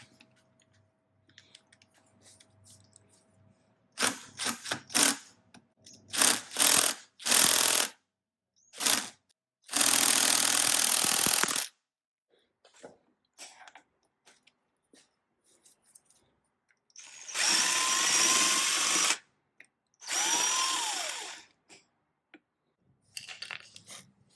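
An impact wrench with an 8 mm socket loosening a bolt on the front fork of a 1989 Yamaha Radian YX600, heard as three loud, sustained buzzing bursts after some scattered clicks and handling noises.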